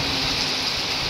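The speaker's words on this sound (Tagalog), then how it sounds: "pawala-wala naman ang ulan pero mamaya na naman lalakas na naman yan" Rain falling during a storm strong enough to tear neighbors' metal roof sheets loose: a brief, steady, dense hiss of rainfall, loud and continuous, with no voices.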